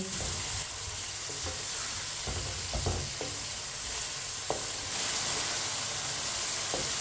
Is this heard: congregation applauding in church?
no